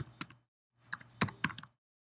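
Keys clatter on a computer keyboard as a hosting account username is entered, two short bursts of quick clicks separated by a brief pause, close and fairly quiet.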